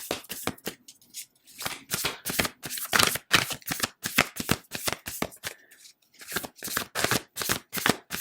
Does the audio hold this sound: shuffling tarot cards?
yes